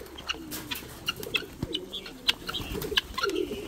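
Pigeons coo in soft repeated low murmurs mixed with scattered chirps from other birds nearby, close and moderately loud with an uneven rhythm.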